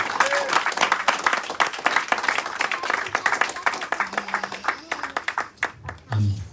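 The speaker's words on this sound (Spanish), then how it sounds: "Un aplauso al Señor." A church congregation claps together after a prayer, a dense, steady patter of many hands close by that thins out toward the end, with some voices mixed in.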